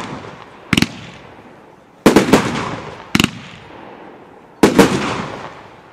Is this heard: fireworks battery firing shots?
yes